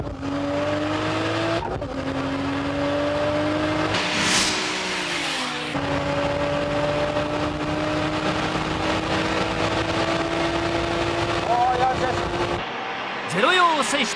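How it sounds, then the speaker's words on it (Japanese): Toyota Supra race car spinning its wheels at a race start, a loud steady high engine drone with tire squeal and a shift, with commentary voices talking over it. "スープラ激しいパワースピン。"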